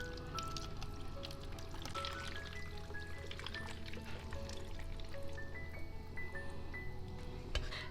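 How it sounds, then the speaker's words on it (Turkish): Cheese whey is poured over homemade fresh cheese to make a brine, a steady close trickling and splashing of liquid that continues throughout, with no talk. "Peynir suyunu üzerine döküyorum."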